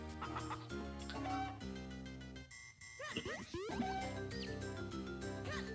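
Chickens cluck in The Minish Cap video game, a few short game-sound calls popping up over continuous in-game music throughout.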